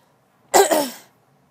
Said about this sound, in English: I'm really sorry about clearing my throat a lot.